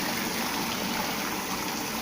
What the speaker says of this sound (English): So when it's coming like this, pressure is reduced and the water keeps going and going and going.